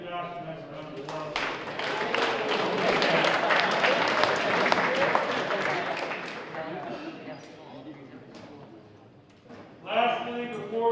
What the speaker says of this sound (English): So give Josh a nice round of applause.